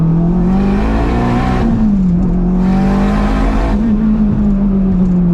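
A boosted K24 turbo all-wheel-drive Acura RSX Type S pulls hard in second gear, its loud, steady engine drone rising in pitch, dipping briefly at a shift-like pause, then climbing again with no talking.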